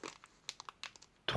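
A Pokémon booster pack wrapper from the Couronne Stellaire set is opened, giving close, quiet crinkles and tearing crackles in short bursts that end in a louder rip.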